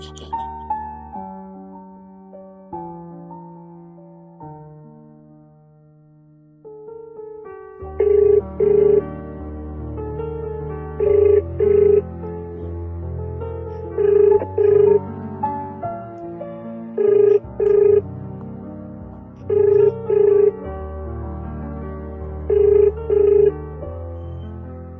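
A phone call to a father rings out unanswered: a melodic ringtone repeats in short, evenly spaced bursts over a steady tonal background, clear and close, after a quieter opening, with no speech.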